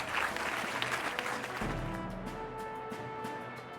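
A crowd applauds in the video game Metaphor: ReFantazio, a loud burst of clapping that fades after a couple of seconds into quieter tonal music.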